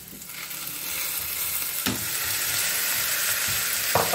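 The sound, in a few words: minced meat frying in a pan on the stove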